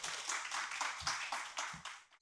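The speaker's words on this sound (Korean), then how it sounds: "큰 박수로 맞아주시면 감사합니다" An audience at a lecture on Korean democracy claps in welcome, a steady patter of many hands at moderate loudness, alone without talk.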